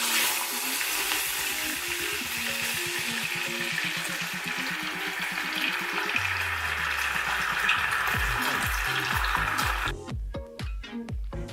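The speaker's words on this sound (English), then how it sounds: "the oil is now ready and we will deep fry the tofu" Tofu deep frying in hot oil in a deep pot, a steady loud crackling sizzle that runs continuously, with low rhythmic knocking underneath and a few sharp clatters near the end.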